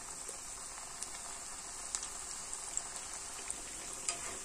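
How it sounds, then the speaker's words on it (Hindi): Pakoras frying in hot oil give a steady, moderate sizzle with occasional sharp pops and crackles spaced a second or so apart. "गर्म हो गया हो तो हम इसके अंदर डालेंगे पकौड़े।"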